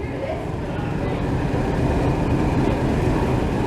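A steady, moderately loud rumble of a waiting train at Bury Bolton Street station, a broad low wash of engine and platform noise with no clear talk.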